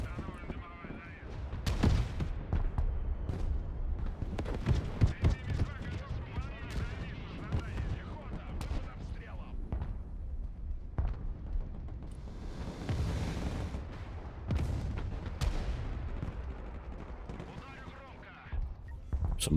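Mortar and artillery fire in a multiplayer war video game: repeated heavy thuds and distant blasts mixed with gunfire, with someone talking over the combat.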